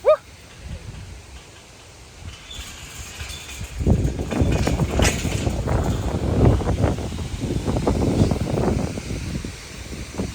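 Strong wind gusting outdoors across planting machinery, a loud, sustained roaring rumble with buffeting bursts that builds from about four seconds onward and continues to the end, with no talking.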